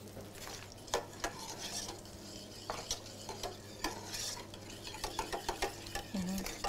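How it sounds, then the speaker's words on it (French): Stirring in a hot pan during the making of roast parsnip with smoked pork tenderloin, mussels and passion fruit vinaigrette: a run of irregular scraping clicks and utensil taps over a steady background hum, close and moderately loud, with no talking. "Tu peux remuer, si tu veux."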